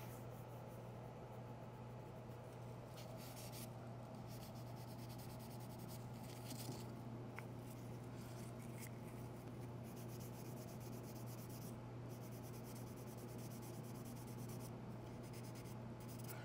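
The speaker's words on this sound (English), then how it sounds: "I'm just folding this up to kind of pinpoint my sand areas a little bit." Folded sandpaper is rubbed by hand over damaged car paint, a soft, continuous scratchy rubbing under a steady low hum, close and without talk.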